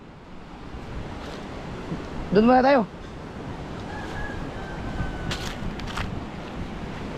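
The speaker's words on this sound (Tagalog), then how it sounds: "Mahangin naman. Wah! Hangin!" Steady wind rushes over open water on a boat crossing among three small boats, a constant broadband roar with surf-like wash throughout, with a brief burst of nearby talk midway.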